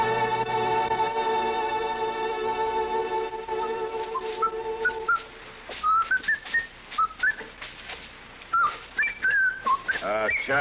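A man whistles a wandering tune in a 1961 Gunsmoke western radio drama; the clear, fairly loud melody starts midway, right after a sustained musical passage, and carries on alone with short breaks between phrases.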